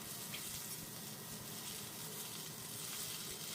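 Vegetables for a Bengali spinach mixed-vegetable curry sizzle steadily as they fry in a pan, giving a soft, even hiss with faint stirring underneath and no talk.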